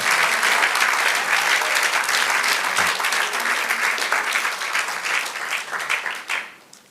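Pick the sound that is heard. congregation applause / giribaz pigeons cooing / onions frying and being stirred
congregation applause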